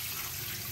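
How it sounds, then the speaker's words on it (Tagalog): Water pours steadily into a pot of salted chicken feet for pressure cooking, a soft, continuous rushing trickle that stays even and fairly quiet from start to finish. "Lagyan na po natin ng tubig."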